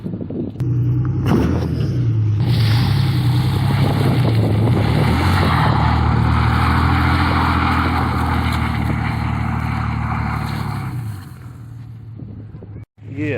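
A truck's engine roars loud and close as it drives across grass while pulling tires through a culvert pipe, a sustained heavy rumble with rising revs for about ten seconds before it fades and cuts out.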